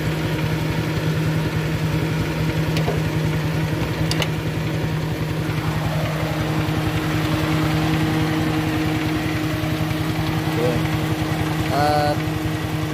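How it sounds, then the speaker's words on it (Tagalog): Up close, the engine of a Kia CD5 with a misfiring spark plug idles roughly with a steady, continuous low hum and throb. It stays constant throughout, with faint metallic clicks and rattles in the background. "Nangangatal yung makina yan."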